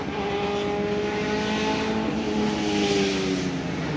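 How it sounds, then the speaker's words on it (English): An ex-Eddie Cheever BMW Group 5 320 race car hammers loudly along a dry front straight at a hillclimb course, its engine note sustained and steady, rising slightly in pitch as it powers on past. "The ex-Eddie Cheever Group 5 320. hammering along the front straight under the bridge and up towards Moulcombe."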